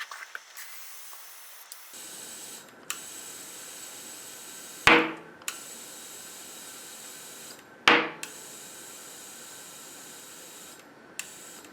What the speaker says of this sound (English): let's see how easy this is to seat with my compressor